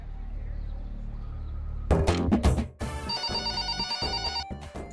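A telephone rings at home during a TV drama scene, its bright electronic ringing pulses starting abruptly after a quiet stretch and repeating loudly in bursts.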